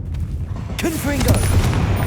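Confringo fire spells burst in Hogwarts Legacy with a rapid series of booming, crackling blasts. A sharp, loud onset comes midway and the sound stays dense to the end, with a voice cutting through the effects.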